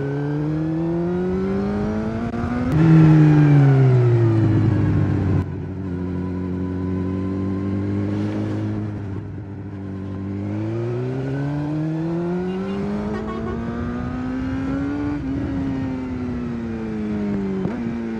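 A 600cc motorcycle engine while riding, with harmonic engine tones that climb and fall through gear changes and a loud drop near the third second. The engine then pulls up again steadily, with wind noise and no talk.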